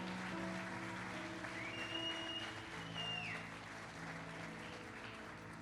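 A church congregation applauds in a continuous wash of clapping, moderately loud, with steady tones and a brief rising and falling sweep sounding underneath it.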